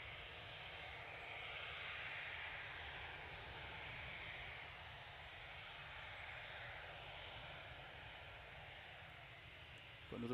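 An EasyJet Airbus A320 airliner, about fifteen years old and bound for Malaga, roars at Manchester airport with a broad, sustained engine rumble and rushing noise that holds steady throughout at a moderate distance.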